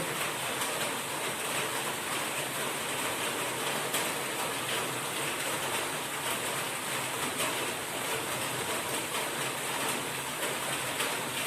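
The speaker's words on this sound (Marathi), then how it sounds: "जोरदार पाऊस अजूनही पण पडतात" A continuous, even wash of heavy rain in Talawade, Sawantwadi taluka, fills the air, mingled with a rushing water sound, steady throughout with no voices.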